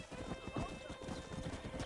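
Horse hooves clip-clop steadily and rhythmically while riding in Red Dead Redemption, close and continuous over game ambience, with a brief whinny.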